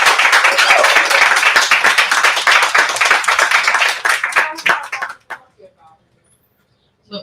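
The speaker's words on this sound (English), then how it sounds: "Let's make a big round of applause." An audience at an indie podcast festival in New York City gives a round of applause, loud, dense clapping for about five seconds. It thins into a few scattered claps and then stops, with a little chatter underneath.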